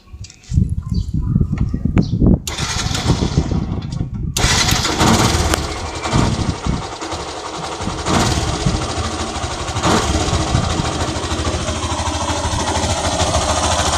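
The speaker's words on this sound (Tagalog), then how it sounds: "So start na muna natin ang makina." A carburetted Yamaha YTX motorcycle engine cranks, catches and roars to life, then settles into a loud, steady, high idle with a rough, buzzing tone.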